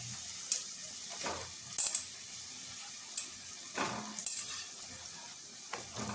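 Soaked, squeezed soybeans go into a hot pan for a Marathi-style soybean bhaji, with a soft sizzle under scattered clinks and scrapes of a spoon stirring against the metal, the strokes coming in uneven bursts.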